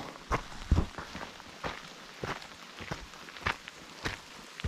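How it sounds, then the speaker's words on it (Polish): Hikers walk in rain in northeastern Newfoundland. Regular crunching footsteps thud close by over a constant soft hiss of falling rain. "Mówię, że najnormalniej w świecie deszcz pada"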